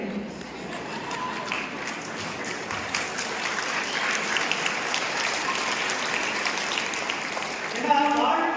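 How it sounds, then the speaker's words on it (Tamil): An audience at a college debate event claps steadily throughout, a dense broadband patter that swells slightly toward the end, with talking mixed in. "கை தட்டுங்க."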